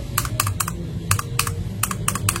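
Sharp clicks from TTC Tiger mechanical switches come in rapid pairs and clusters of keystrokes, close and crisp, with nothing else sounding around them.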